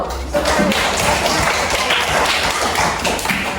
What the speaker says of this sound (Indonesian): itu tepuk tangan dulu.